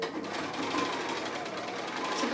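A sewing machine runs steadily, stitching small straight-edged quilt block pieces together, a continuous close mechanical whir with fast rhythmic needle chatter throughout and no talking.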